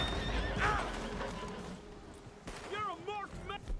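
A horse whinnies twice, a shrill wavering neigh early and another near the end, with hoof clatter and scattered game noise around it.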